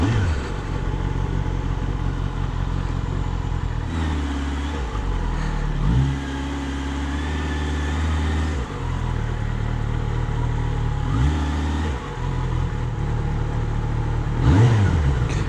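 A stock Kawasaki ZX10R sport bike engine revs hard and repeatedly, climbing and dropping in pitch between short throttle blips, loud and close with no talk over it.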